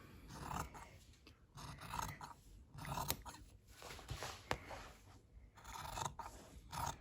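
Scissors cut through fabric laid over a matching piece during a beginner sewing lesson, giving steady close snipping and rasping strokes in repeated bursts with short pauses, and no talking.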